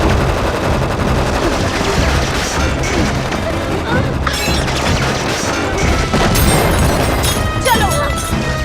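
Rapid bursts of gunfire crack and boom through a dense, chaotic battle din in an action movie dubbed into Hindi, with shouting voices mixed in throughout.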